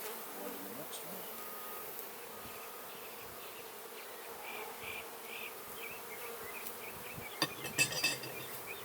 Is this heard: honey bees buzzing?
yes